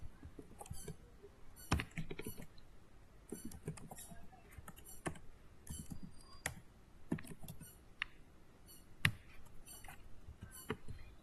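Typing an email address on a computer keyboard, irregular bursts of light key taps with brief pauses, close and fairly quiet, no talk.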